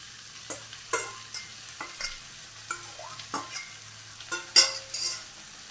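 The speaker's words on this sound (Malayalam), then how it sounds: "ഇനി ഇത് നല്ലതുപോലെ ഇളക്കി മിക്സ് ചെയ്യാം." Marinated soya chunks are stirred into frying masala in a pan, with a spoon scraping and clacking in irregular strokes over a quiet, steady sizzle, close up with no talking.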